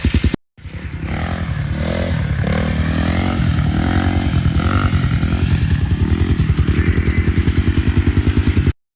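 A Yamaha Timberwolf 250 ATV engine thrums close and loud during a ride, cutting out briefly at the start, then holding a steady rapid pulsing drone before stopping abruptly.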